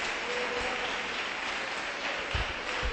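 A church congregation claps in a steady, dense burst of applause that fills the hall, rising slightly near the end, with no talking over it.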